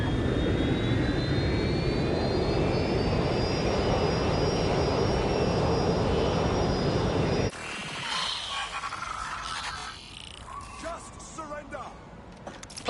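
A steady airliner jet engine roar from the Watch Dogs: Legion game, heavy and continuous with a rising whine, then cutting to quieter mixed game sounds partway through.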